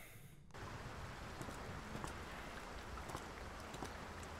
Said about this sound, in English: I don't know what it is about rain that just makes the game even scarier.